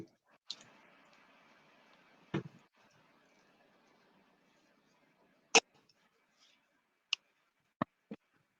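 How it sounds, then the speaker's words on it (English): Scissors trim twist ties on a ribbon wreath, making several sharp, isolated snips spread across the stretch, close and fairly quiet, with a faint low hum between cuts and no speech. "I'm going to trim up my twist ties so that they don't get in the way."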